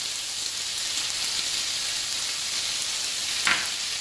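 Onion with a pinch of salt frying in a pan for a Catalan octopus stew, a steady dense sizzle throughout with a brief brighter crackle near the end, no talking.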